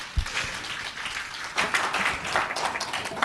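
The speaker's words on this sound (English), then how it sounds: "give a big clap of applause to our panelists here" An audience at a 2024 ASEAN conference on combatting plastic pollution applauds its panelists, a steady, dense patter of many hands that swells slightly midway and continues throughout at moderate volume.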